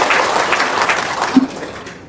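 An audience breaks into brief applause at a spoken talk, a dense burst of hand claps that holds steady for about two seconds before thinning out.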